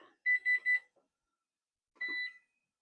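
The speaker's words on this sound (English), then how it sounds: "Okay, our timer is going off." A kitchen timer goes off while chili sauce is being cooked, giving three quick bright beeps followed by a pause and one longer beep, close and clear with no talking.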